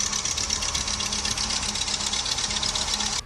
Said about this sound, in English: the Model F startup was often described as spirited, if a bit temperamental